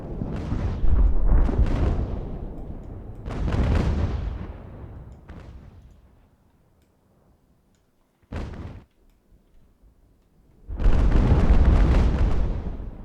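Naval cannons in Ultimate Admiral: Age of Sail, during the Battle of Trafalgar, boom in rolling broadside volleys, with several heavy blasts that fade into quiet gaps, one sharp isolated shot and a final loud barrage, without any talk.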